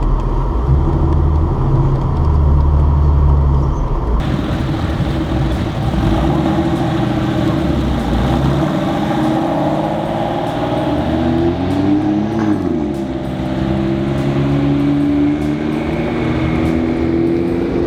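A four-cylinder Datsun race car drives on a track, its engine droning loud and steady from an onboard position, pitch rising and falling through gear changes amid constant wind and road rumble.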